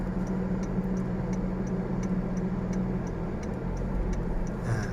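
Car hazard warning lights ticking inside a vehicle on a bridge: a faint, evenly spaced tick-tock repeating about twice per second over a steady low engine idle hum.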